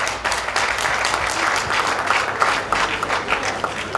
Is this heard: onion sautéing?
no